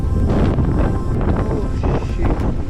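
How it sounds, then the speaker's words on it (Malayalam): Strong wind gusting hard near a ship at Milford Sound, a broad loud roar buffeting the microphone throughout, with no voices over it. "ആ കാറ്റിന്റെ ശക്തി മനസ്സിലാവണേ നിങ്ങൾക്ക് ഇവിടെ നോക്കിയാൽ കേട്ടാ"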